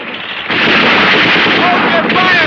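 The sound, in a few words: gunfire in a film scene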